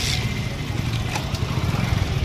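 Motorbike engine idling and puttering close by as the bike is brought in to park, a steady low chug that continues throughout with faint voices in the background.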